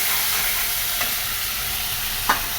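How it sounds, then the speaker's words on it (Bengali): Potatoes sauté in a hot oiled pan with a loud, steady sizzle and hiss, broken by a couple of brief stirring scrapes. "এই তো একটু আলু কষিয়ে নিলাম।"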